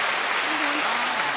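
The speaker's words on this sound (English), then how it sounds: "all the fans clapping and shit" Fans applauding, a dense, steady wash of clapping that carries through the whole moment at a moderate distance with no break.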